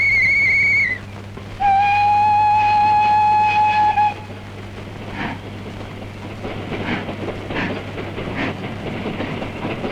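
A moving train sounds a loud, sustained whistle in two blasts, then rolls on with steady rumbling and rhythmic clatter of the wheels on the track.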